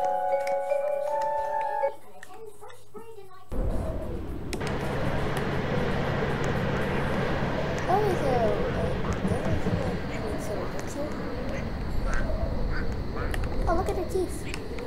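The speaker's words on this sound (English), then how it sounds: "Look at the ducks. Ah, why are the ducks chasing me?" Ducks in a Roblox video game quack repeatedly while chasing the player, a busy game soundscape with a young speaker talking over it.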